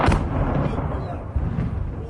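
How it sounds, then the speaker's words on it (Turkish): A loud, booming blast as a drone strikes a ship in the Black Sea, followed by a sustained low rumbling roar that swells again partway through. "Aha patladı. Gemiyi patlat."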